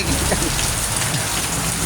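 Steady heavy rain pours during a typhoon, drumming without a break close overhead on an umbrella, loud and even for the whole stretch.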